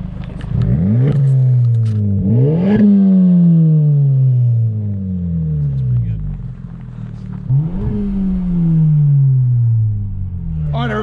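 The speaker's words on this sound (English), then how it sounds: "that was the install of the Ultimate Racing exhaust on the 2018 Civic Type R" A 2018 Honda Civic Type R with an Ultimate Racing exhaust revs up and down several times, each sharp rise in pitch dropping back with pops and crackles, loud and close.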